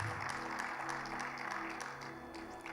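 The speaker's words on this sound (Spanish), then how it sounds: "Den un fuerte aplauso al Señor," Students in a Bible seminary class applaud, a moderate, steady patter of clapping that continues evenly, with a faint tonal hum running underneath.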